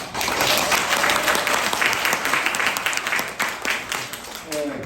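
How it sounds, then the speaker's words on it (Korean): A crowd at a Lions Club inauguration ceremony in Seongsan-po, Jeju breaks into sustained applause, a thick, steady wash of many hands that tapers off near the end, with some talk mixed in. "박수 한번 다시 치세요."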